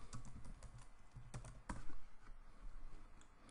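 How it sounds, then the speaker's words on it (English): Soft, quick keystrokes on a computer keyboard while a search is typed in, close and fairly quiet over a low background hum, with a couple of sharper key hits. "let's just type in lose weight real quick"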